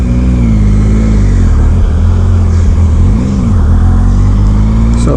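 A 2016 Triumph Speed Triple R motorcycle engine roars continuously at high revs, its pitch rising and dipping slightly as it accelerates, close by with no voices.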